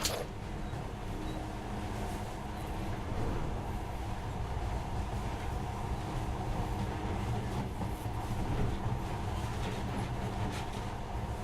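A monorail train in the video game Metro Last Light runs with a steady, dense rumble and rattle that holds constant throughout, close and continuous, with no speech.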